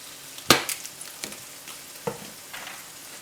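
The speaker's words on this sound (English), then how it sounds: "Now the eggs almost cooked, and I'm gonna add Pad Thai sauce in." Eggs and shrimp fry in a pan as Pad Thai sauce goes in: a soft, close sizzle broken by a few sharp clatters and scrapes of stirring, with no talking.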